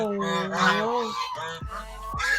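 A hen in a coop at an organic egg farm gives loud, close, harmonic squawking calls in quick succession while eggs are collected, with a couple of short thumps near the end.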